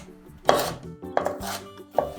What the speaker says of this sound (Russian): а затем нарезаю мелко, небольшими кубиками